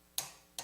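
A punch is driven against a coupling pin held in a vise, giving two sharp metallic taps about 0.4 seconds apart, quiet and close.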